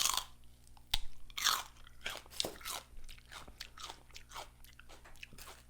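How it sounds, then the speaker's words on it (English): Raw celery is bitten and chewed close up, with sharp crisp crunches at irregular intervals and wetter chewing between them, no talk. "Let's taste the celery."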